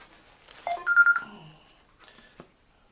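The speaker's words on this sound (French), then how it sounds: "je vais éteindre mon téléphone" A mobile phone being switched off gives a short series of electronic beeps and tones, brief and close, followed by a faint click.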